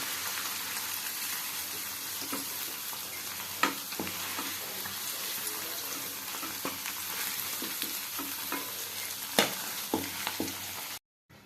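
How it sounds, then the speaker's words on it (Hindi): Chopped garlic and ginger fry in hot oil for vegetable fried rice, giving a steady, dense sizzle with a few sharp spatula taps and scrapes scattered through, no voices. "एबे सेथिरे कटा रसुण आ अदा को पकाई भल भाव में भाजी नबा"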